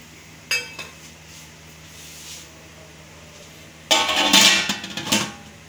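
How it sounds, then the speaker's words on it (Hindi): A lid set on a large biryani cooking pot: one sharp metallic clink early, then a louder rattling clatter of metal settling, close up with no speech. "अब इसको ढक्कन लगा देंगे।"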